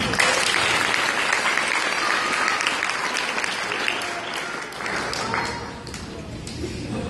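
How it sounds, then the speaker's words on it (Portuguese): An audience breaks into sustained applause after a performer is introduced, a dense wash of many hands clapping that holds steady for several seconds and then thins slightly toward the end. "Uma salva de palmas."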